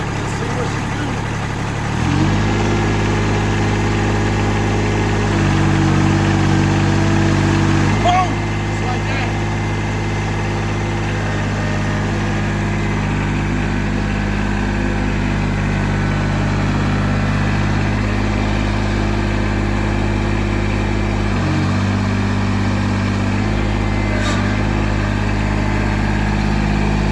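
A John Deere tractor engine runs steadily nearby, holding a deep, even drone with a couple of brief shifts in pitch and load along the way.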